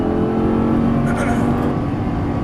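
A Lamborghini Gallardo's engine roars steadily at full throttle down a track straightaway, a loud, sustained close drone with a faint whine running over it.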